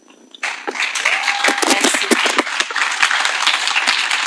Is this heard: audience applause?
yes